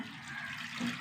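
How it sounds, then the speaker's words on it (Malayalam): Water is poured into a pot of dried shrimp curry with chilli powder, a brief, fairly faint splashing gush of liquid. "ഇനി വെള്ളം ഒഴിച്ചു കൊടുക്കുക"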